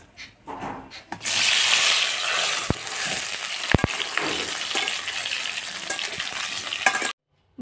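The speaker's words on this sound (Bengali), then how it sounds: "কড়াই গরম হয়ে গেছে, দিয়ে দিচ্ছি সর্ষের তেল। আলুগুলোকে ব্রাউন করে ভেজে নেব।" Boiled potatoes, seasoned with salt and turmeric, fry in hot mustard oil in a kadai wok with a loud, continuous close sizzle. Occasional sharp clicks and taps sound through it before it cuts off abruptly.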